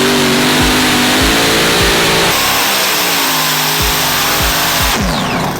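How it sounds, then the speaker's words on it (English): Modified pulling tractors powered by four Hemi engines, around 12,000 to 14,000 horsepower, roar loudly and continuously as they run down the track at a national tractor pulling championship, with the engine pitch rising and shifting throughout. "4 Hemis singing in song as they make their way down the track."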